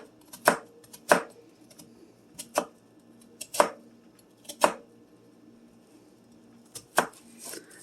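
A knife chops through the other half of an onion on a cutting board, about seven sharp, close strikes at uneven intervals with quiet gaps between.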